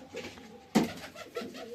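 Pigeons let out of their coop give a few soft, low coos, faint and close, with a sharper flutter-like burst in the middle.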